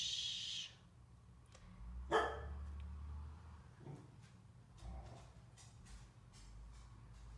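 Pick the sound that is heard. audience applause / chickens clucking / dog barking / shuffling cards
dog barking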